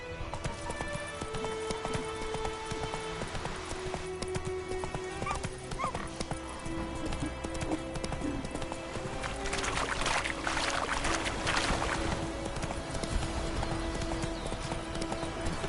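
Roach the horse gallops in a video game, hooves clip-clopping continuously under a dense layer of game music and ambient sound, with a whinny-like burst partway through.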